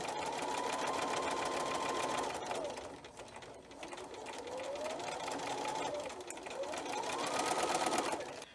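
A sewing machine runs steadily while stitching quilt blocks onto border fabric, a close whirring hum that slows briefly near the middle, then picks up again in speed-changing runs.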